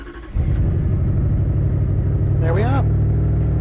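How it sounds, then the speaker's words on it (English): A turbocharged Lexus 1UZ V8 in a car cranks and catches, then settles into a loud, steady, even idle rumble close by; someone speaks briefly over it. "So I'll start the engine."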